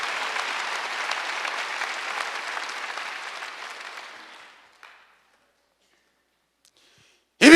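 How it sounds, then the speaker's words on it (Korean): A church congregation at a Sunday worship service breaks into loud, dense applause that holds for about four seconds, then fades quickly into near silence, ending with a sudden short burst of sound. "박수 좀 세게 쳐요."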